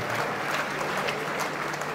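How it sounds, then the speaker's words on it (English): A congregation at a church thanksgiving service for an 80th birthday claps together, a full, steady wash of applause with a faint low hum underneath. "please give God a round of applause for making this possible"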